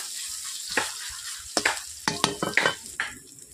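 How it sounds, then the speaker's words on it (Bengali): Chopped onions frying in hot oil until reddish, a continuous hiss broken by sharp scraping stirs that come faster toward the end, close and fairly loud. "পেঁয়াজগুলোকে আমি লালচে করে ভেজে নিচ্ছি"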